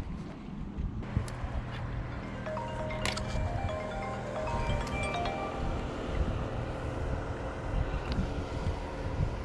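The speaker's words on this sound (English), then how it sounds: "The bloody wind is freezing." Strong cold wind buffets the microphone on a river during a fishing outing, a steady roaring rush with gusty swells throughout, the water and boat surroundings partly masked underneath.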